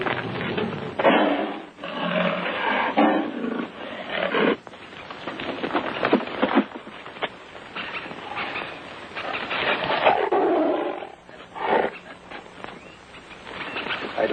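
A tiger growls and roars in a 1940s jungle film, long loud rumbling snarls repeating with brief pauses over several seconds, close and dominant without talk.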